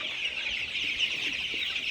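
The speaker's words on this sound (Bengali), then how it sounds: "আজকে 1000 মুরগি এখানে আছে" About a thousand 25-day-old chickens crowded in a poultry farm shed, a dense, continuous chorus of overlapping clucks and chatter at moderate distance, with no talking.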